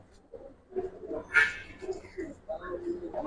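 Giribaz pigeons coo in low, throaty bursts, close by and fairly faint, mixed with other soft noises.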